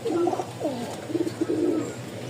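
Pigeons coo in close, repeated low rolling phrases, a few soft throaty bursts overlapping across a couple of seconds against a quiet steady background hum.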